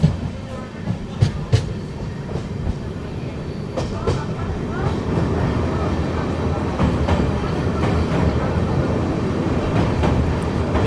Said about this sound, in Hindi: बगल से ये आ रही है अपनी Silchar Rangia express diesel locomotive के साथ